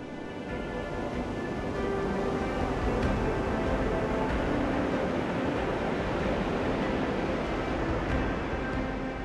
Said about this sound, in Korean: 예전보다 더 강해진 파도는 연일 해변으로 몰아칩니다.